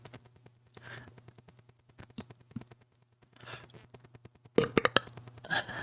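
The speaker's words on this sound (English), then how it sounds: "Oh, and a burp" A burp during a cozy Minecraft jungle-village building stream, with a low rumbly gulp partway through and a louder, fuller burp near the end over a faint steady background hum.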